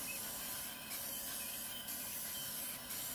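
Steady, even hiss of a spray can or gun misting a clear coat onto an RV, continuous and close, with a few brief pulses in intensity.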